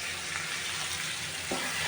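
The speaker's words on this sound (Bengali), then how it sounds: "এবার এপাশও আমি একটু সুন্দর করে ভেজে নেব" Pieces of rui fish fry in hot oil, giving a continuous dense hiss and crackle close by, steady throughout with no voices.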